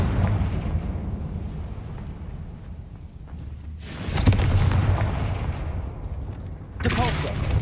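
Fiery Confringo spell blasts in the Hogwarts Legacy video game: two loud bursts, one around the middle and another near the end, over a steady low game rumble with a voice calling out the spell.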